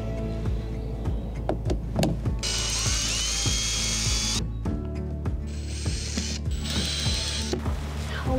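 Screws being removed from the interior of a 20-year-old Land Rover Defender 110 Td5 during a camper conversion, with repeated ratcheting and mechanical clicks and a couple of longer whirring bursts, close by and with no talking.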